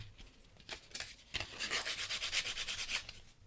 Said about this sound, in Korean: 이런 거칠거칠한 부분을 사포해 줍니다